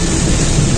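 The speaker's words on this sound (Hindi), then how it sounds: "काफी जोरों की बारिश हो रही है।" Loud, dense rain roars without a break on a road in Gujarat, India, a heavy continuous wash of noise close by, with no voices.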